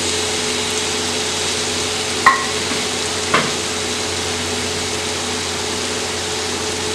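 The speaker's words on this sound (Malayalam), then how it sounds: "ഇതൊന്ന് ഇളക്കി നോക്കാം." Fried masala for Malabar fish biriyani sizzles steadily in a pan, with two brief scraping knocks of a spoon against the vessel during the stir and a low background hum; no one speaks.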